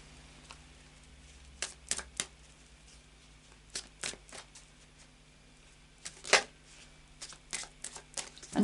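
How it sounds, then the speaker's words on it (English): Tarot cards are shuffled in a quiet indoor setting, with several separate bursts of crisp riffling and slapping spread across the clip, close to the microphone and alone without talk. "So I'll just do a final shuffle."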